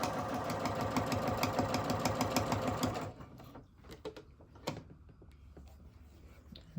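Sewing machine stitching along the edge of a drawstring bag, a fast rhythmic mechanical chatter running for about three seconds before stopping, followed by quiet handling clicks and rustles.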